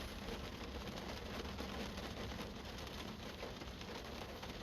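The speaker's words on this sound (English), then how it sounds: "You probably can hear the rain." Steady rain falls on a surface outdoors, an even, dense hiss of droplets continuing without break and heard on its own at a moderate level.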